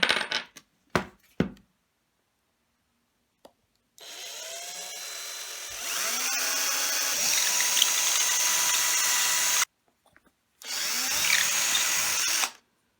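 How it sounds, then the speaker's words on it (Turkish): A few sharp clicks and taps, then a power drill whirs steadily for several seconds boring straight through the middle of a piece of wood, pauses briefly, and runs again before stopping. "Matkap yardımı ile bu tahta parçamı tam ortasından karşıdan karşıya olacak şekilde deleceğim"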